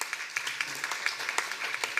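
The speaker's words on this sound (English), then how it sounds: "if we could just give a round of applause to all the volunteers who helped out during that" A modest crowd at a city commission meeting claps for storm volunteers, a quiet, somewhat distant spatter of scattered hand claps with a few sharper individual claps standing out.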